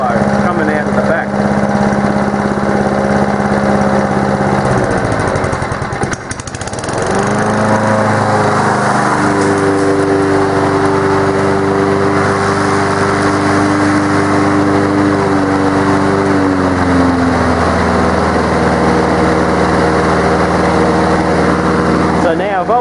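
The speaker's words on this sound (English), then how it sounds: "a deeper growl beneath the exhaust sound of the mower" A Honda lawn mower engine runs steadily and loud for the whole stretch, with a deep exhaust growl under the drone and a brief dip in pitch partway through before it settles back to a steady hum.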